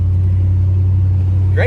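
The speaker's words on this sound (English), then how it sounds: "Great excuse to take the Chevelle out on a beautiful sunny day." Low steady engine drone from inside a Chevrolet Chevelle cruising along on a sunny day, loud and constant with a faint higher whine creeping in at the very end.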